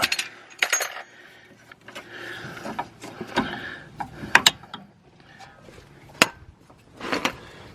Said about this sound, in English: I put the wrench on the one side, and then I can ratchet it from this side